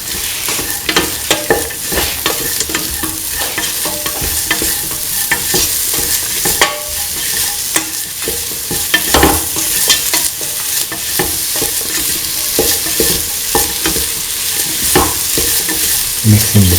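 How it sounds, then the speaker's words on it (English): Tomato coconut rice being stirred with salt in a hot pan, a steady scraping and soft sizzle that continues with regular spoon strokes, close and fairly loud, with no voices. "Mix in the salt."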